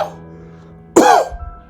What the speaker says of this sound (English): Bend over, cough again.